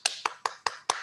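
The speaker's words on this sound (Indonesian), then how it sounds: "Ada yang tepuk tangan sendirian gitu" One person claps their hands alone, five sharp, evenly spaced claps in quick succession, close and clear, with nothing else around them.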